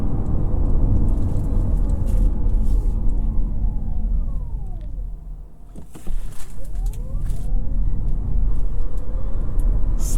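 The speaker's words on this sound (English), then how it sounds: "I'm gonna try 0 to 60 real quick" A 2023 Kia Niro EV Wave in sport mode with traction control on accelerates hard from 0 to 60, its rising electric whine sweeping up over road rumble, easing briefly midway before climbing again.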